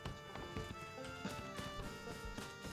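Horse hooves clip-clop in a steady, close, repeated rhythm in the survival video game Rust, with faint layered game ambience underneath and no talking.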